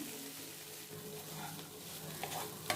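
Moringa leaves frying in a pan, a faint steady sizzle with soft stirring and a couple of light scrapes near the end.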